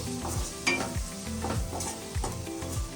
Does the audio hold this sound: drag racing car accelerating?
no